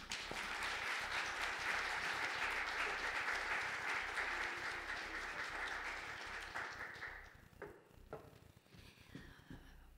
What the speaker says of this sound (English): let's give another round of applause to King.